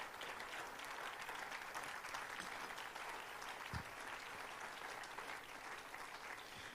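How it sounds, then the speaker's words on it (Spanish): A church congregation at a pastors' retreat applauds with steady, sustained clapping that fills the whole stretch evenly, fairly distant and without speech. "dele fuerte el aplauso al Señor."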